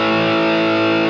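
Epiphone Les Paul 100 electric guitar played through an amp's overdrive channel with light delay and reverb, a single sustained distorted chord ringing loud and steady before cutting off.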